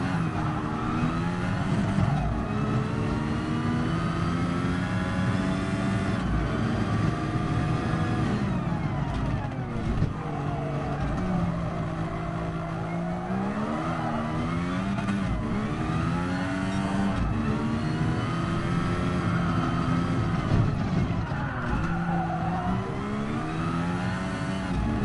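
Car engine rising and falling in pitch as it accelerates through gears on a smooth drive, a steady, loud drone that swells and dips continuously.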